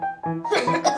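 A child's cough during a doctor's chest examination comes as a few short, close bursts, one after another within a second.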